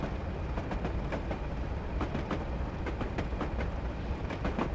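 Train wheels clickety-clack over rail joints in Train Simulator 2021 on the West Highland Line south near Roy Bridge, a steady rhythm of sharp clicks over a continuous low rumble, no talk.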